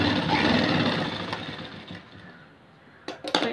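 A sewing machine stitches a blouse in a steady, loud mechanical whir that fades partway through, then gives a few short bursts near the end.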